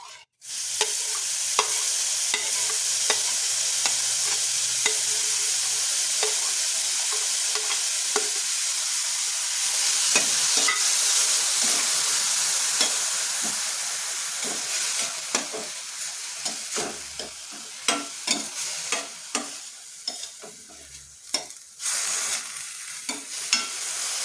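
Amaranth greens fry in a small amount of oil in a pan: a loud, dense sizzle that eases off midway, broken later by frequent scraping stirs of a spoon.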